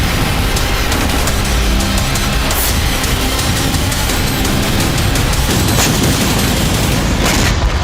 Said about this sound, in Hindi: इजरायली बमबारी से गाजा एक बार फिर दहल उठा।